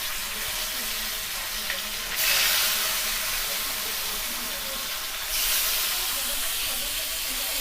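Shimul fish pieces dropped into hot oil in a kadai, giving a loud, steady sizzle and hiss that surges twice as more fish goes in, with faint stirring beneath.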